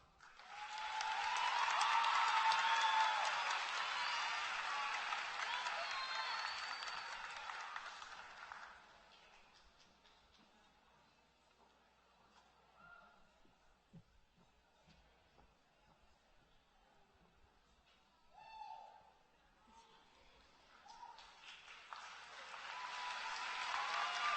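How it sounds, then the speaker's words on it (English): Audience at a middle school eighth-grade moving up ceremony gives a round of applause that swells quickly and fades out over about eight seconds, followed by a quiet room with faint scattered sounds and a little distant voice. "Sophia Gonzalez, with a nice round of applause as she comes to the stage"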